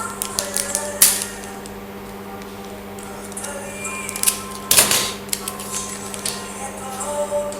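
Trading cards are handled and unpacked up close, with scattered crisp clicks, light slaps and rustling from card stock and packaging over a steady low background hum, with a couple of sharper snaps.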